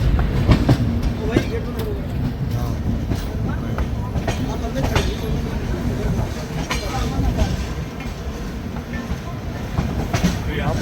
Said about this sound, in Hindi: फाइनली यहाँ मुरैना पे हमने ओवरटेक कर लिया है महाकौशल एक्सप्रेस को।